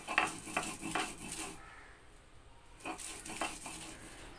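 A stone grinding slab (shil), rinsed beforehand, handled on a kitchen counter in preparation for grinding taro root, giving a few close, hard clatters and scrapes of stone with a quiet pause in the middle.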